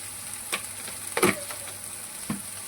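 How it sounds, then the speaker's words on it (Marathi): Masala paste frying in a pan is mixed in a few short scraping strokes over a soft sizzle, close and quiet, with no talk. "आणि मस्त याला असं मिक्स करून घ्यायचं"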